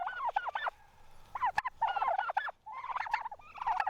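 Bronze-breasted turkeys on a farm gobble and chatter in several close, rapid bursts separated by brief pauses, with one sharp click in between.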